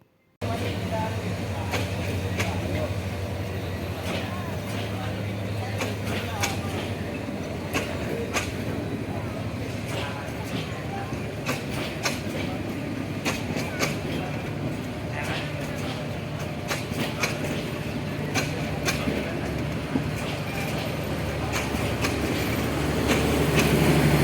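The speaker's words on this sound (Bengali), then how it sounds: "ঢাকা চট্টগ্রাম সিলেট ময়মনসিংহ নোয়াখালী কুমিল্লা ব্রাহ্মণবাড়িয়া সহ দেশের বিভিন্ন অঞ্চলে যাত্রীবাহী ও মালবাহী ট্রেন চলাচল করে এই জংশন দিয়ে" Passenger and freight trains at Bhairab Bazar railway junction in Kishoreganj, Bangladesh, with a steady rumble and rail clatter running continuously, rising slightly toward the end, and faint voices in the station ambience.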